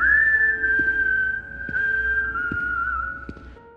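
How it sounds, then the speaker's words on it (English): A single sustained, slowly falling whistle with a hollow, eerie tone, loud and close, over a faint low hum and soft ticking. "I froze as the whistling began a third time, now directly behind me."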